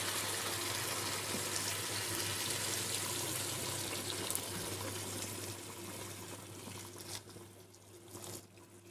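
Steady rushing of hot water pouring into a cooking pot for sheep-meat kabsa, a continuous close splashing flow with a low hum underneath, tapering off near the end.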